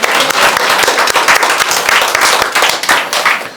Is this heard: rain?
no